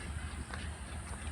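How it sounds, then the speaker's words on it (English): A diesel locomotive idles and warms up at a standard gauge railway station, giving a steady low rumble with a constant hum and faint station noise around it. "The engine is being warmed up. It's a diesel engine, so it needs a lot of time"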